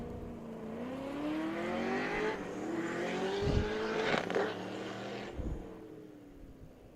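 A Datsun and a 1956 Chevy launch off the line in a drag race, engines rising in a loud revving climb with shifts between gears, heard from a distance without talk.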